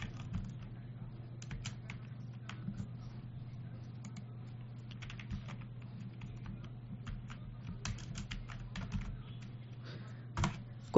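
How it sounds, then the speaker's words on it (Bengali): Keys clack in quick irregular bursts on a computer keyboard as a search for Chrome extensions is typed, close and fairly quiet over a steady low hum, with no voices. "ক্রোম এক্সটেনশন লিখে সার্চ করলাম"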